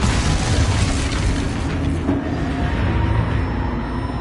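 A Confringo spell explosion in the video game Hogwarts Legacy, a loud, broad rumbling boom that dominates the scene, with a blast and low roar lasting several seconds and no talk.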